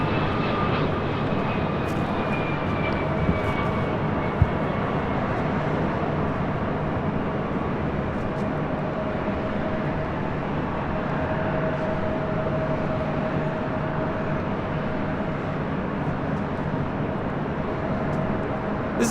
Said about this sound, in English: This is Delta Airlines 473 coming in from Boston, 757-200.